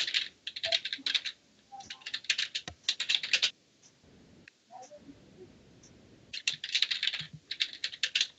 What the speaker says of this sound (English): Typing it out, huh?